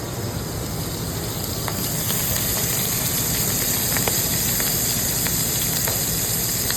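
Seasoned shrimp sizzle steadily as they brown in a hot pan, a continuous dense frying hiss with faint crackles and pops throughout, close and even, with no talking.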